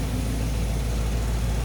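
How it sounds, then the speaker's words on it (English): A 1946 Studebaker pickup engine idling down, a steady low rumbling drone heard up close and alone, with no talk. "There you can hear the motor idling down."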